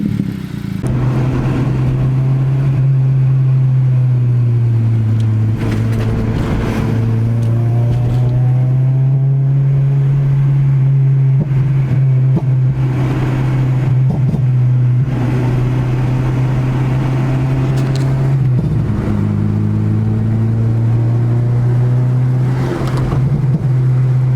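Honda S2000 engine idling loud and close, then revved repeatedly with rising and falling swells over about twenty seconds, a sustained droning tone with turbo building boost under it, no talking.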